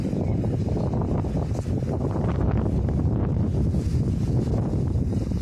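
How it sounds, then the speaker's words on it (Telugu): Strong wind roars steadily across the microphone at a hilltop temple among large boulders, a dense rumbling buffet with gusts that never let up. "ఇక్కడ గాలి ఫుల్ వస్తుందండి మొత్తం గాలి సౌండ్ వస్తుంది"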